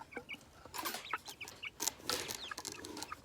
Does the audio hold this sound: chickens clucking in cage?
yes